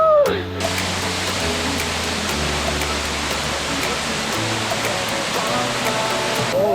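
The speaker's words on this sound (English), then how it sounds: "no better way to cool off than a cold Thailand waterfall" A jungle waterfall in Thailand pours down as a steady, dense rush of splashing water, close and loud, unbroken for several seconds with no voices.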